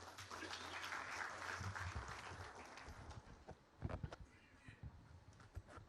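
Audience applause at an investors summit in Mumbai welcoming a minister, dense clapping for about three seconds that thins into scattered claps and fades.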